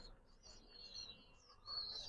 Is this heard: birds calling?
yes